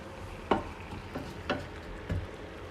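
A hot pan for mushroom and chorizo risotto gives a quiet background sizzle, broken by a few distinct scraping stirs and knocks roughly every half second to second, near and soft.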